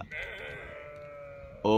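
A sheep bleats in a single drawn-out, wavering call that carries over quiet outdoor surroundings, with a sharp louder noise cutting in right at the end.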